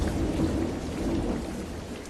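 Steady rain falling on a rainy night with low rumbling thunder underneath, a brief continuous wash of drops and rolling rumble.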